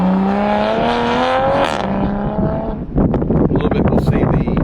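A Toyota Mark V Supra race car drives past at a Grissom AFB track event, its engine note climbing through rising harmonics before the sound breaks into a rough, loud roar with wind buffeting. A voice talks over part of it.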